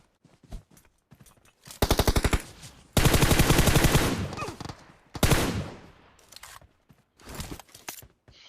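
Automatic gunfire in the mobile battle royale game PUBG Mobile, sharp bursts and a long sustained rattle of shots alternating with single pops and brief gaps, loud and close with no talk.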